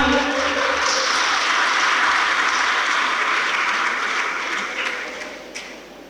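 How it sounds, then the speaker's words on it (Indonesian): A church congregation at a BNKP pastoral ordination service applauds loudly, a dense, sustained roar of clapping from a large crowd that swells, holds, then thins and fades toward the end. "Bisa lebih keras tepuk tangannya?"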